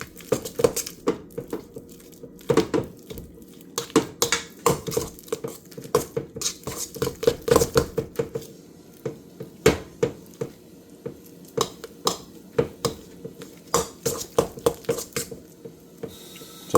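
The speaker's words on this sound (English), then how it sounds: "I'm going to cream my butter until it's like a margarine-like consistency" Butter being creamed by hand in a mixing bowl for a rum cake, heard as a run of irregular scraping, knocking clatters against the bowl, close and fairly loud, without talk.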